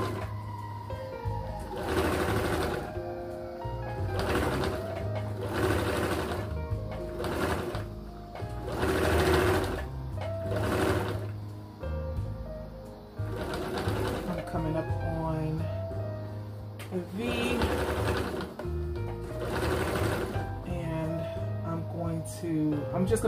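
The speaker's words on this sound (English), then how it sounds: "Just gonna go like to the edge and then backstitch and then start another seam" A sewing machine stitches a thick shoulder seam in rapid, whirring bursts with short pauses between runs, while someone talks quietly underneath.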